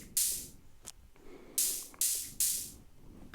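Open hi-hat hits from an Erica Synths Hi Hats module, four bright noisy crashes with short tails, irregularly spaced and fairly quiet, with a few softer ticks between.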